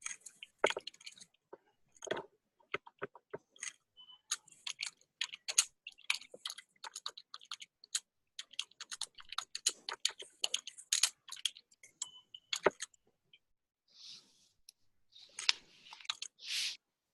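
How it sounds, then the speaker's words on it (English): Someone types on a computer keyboard, keys tapped in irregular quick bursts with short pauses, close and fairly quiet, with no speech. "I'll type a message to you."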